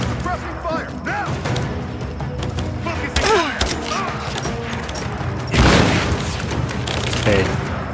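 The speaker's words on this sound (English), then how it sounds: "Give me suppressing fire now!" Suppressing gunfire in Rise of the Tomb Raider arrives as bursts of shots and heavy thumps, building to a loud volley, with chirping sweeps and a voice speaking through it.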